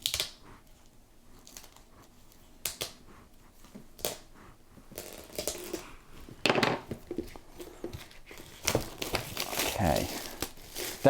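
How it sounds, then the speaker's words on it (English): Plastic packaging for a Warhammer 40K Legends partwork issue being unwrapped by hand, with irregular crinkling and tearing bursts that grow louder and denser toward the end, close and otherwise quiet. "Let's just unwrap this one as well."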